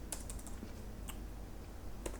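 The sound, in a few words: typing code on a computer keyboard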